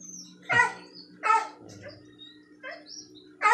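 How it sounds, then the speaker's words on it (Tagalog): A dog barks repeatedly at irregular intervals, a few sharp yips and woofs from a short distance over a quiet background. "ang ingay-ingay ng aso"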